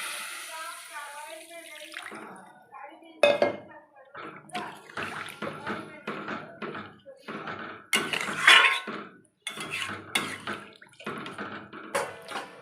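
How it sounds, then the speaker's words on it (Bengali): Water is poured into a cooking pot of potatoes for a curry, with splashing and clinking of pans among kitchen clatter while someone talks. "এবার আমি এতে পরিমাণ মতো জল দিয়ে দিচ্ছি।"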